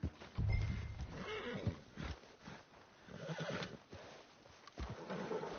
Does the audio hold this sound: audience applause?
no